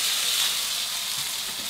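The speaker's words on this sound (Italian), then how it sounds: "è arrivato il momento di lanciare sulla padella molto delicatamente i pezzettini di chicken" Small pieces of chicken fillet sizzle in a pan, a steady close frying hiss with no voices over it.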